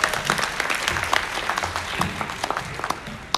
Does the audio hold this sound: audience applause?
yes